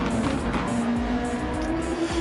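Formula racing cars in a video game, their engine whine holding a steady tone with a faint squeal of tyres, played at lowered volume behind the commentary for the whole stretch.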